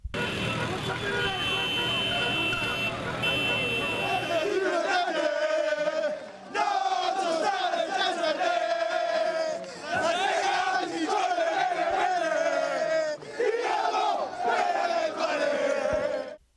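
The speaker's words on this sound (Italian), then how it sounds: "Piazza Risorgimento esplode e comincia una lunga notte di caroselli e cori" Football fans celebrating in Piazza Risorgimento, Benevento, at night: loud crowd chanting and shouting in waves, with passing cars in a street parade and a long steady tone, like a held horn, at the start.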